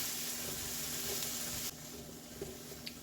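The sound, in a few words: stirring sizzling chicken in a pot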